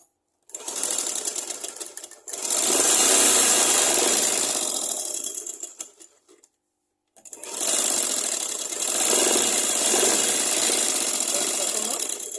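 An electric sewing machine stitches a blouse bodice in fast, loud, whirring bursts. Two long runs of stitching are separated by short pauses, with a brief stop near the start and a longer one near the middle.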